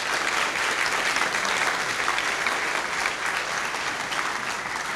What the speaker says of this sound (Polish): Brawa dla Łukasza.